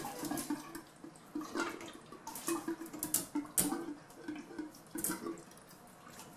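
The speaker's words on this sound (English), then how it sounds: "there's a little water coming off this thing" Water trickling and dripping from a disconnected 50-gallon gas water heater during an uninstall, a steady splashing run with irregular drips and clanks, fairly close, no talk.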